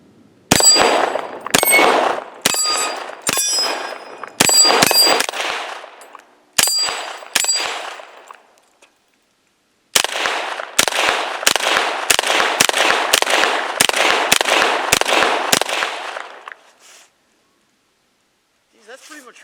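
Zigana Model F 9mm pistol fired at an outdoor range: a series of sharp, loud reports in irregular bursts, several shots in quick succession, then a pause and a longer volley of rapid shots before falling silent.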